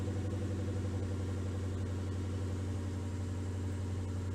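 A Ford Mustang Mach 1 with 51,000 miles idles steadily just after starting, a low, even rumble that holds constant throughout, close by and fairly quiet, with no voices.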